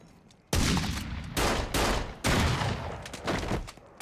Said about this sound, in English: the bar is shot up by Carson